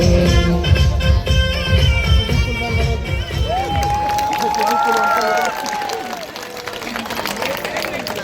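Clapping and cheering erupt from a crowd after a dance performance at a Karnataka cultural stage show, loud at first and then fading as a voice speaks over a microphone.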